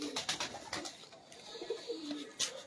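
Soft, repeated pigeon coos close by, rising and falling in gentle throaty phrases over a steady outdoor background.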